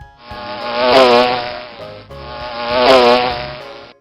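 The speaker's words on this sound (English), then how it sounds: "bee" A bee buzzes loudly and close in two long swelling passes, each rising to a peak and fading, with no other sound around it.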